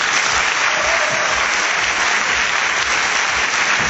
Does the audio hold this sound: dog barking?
no